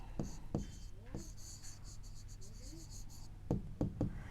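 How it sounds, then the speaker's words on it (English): Pen writing on paper during a maths lesson, quick scratchy strokes with a few soft taps on the desk, close but quiet, with faint background sound. "We write it here."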